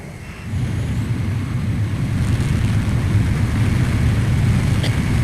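Steady jet engine roar from a fighter cruising toward a refueling aircraft in the combat flight game Ace Combat Zero, a continuous low rumble that swells slightly after the first half second and holds loud throughout.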